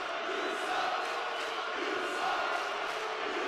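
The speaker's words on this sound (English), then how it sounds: "now he's getting booed out of the building" A wrestling crowd boos steadily throughout, a dense, continuous roar of many voices filling an indoor arena at constant loudness.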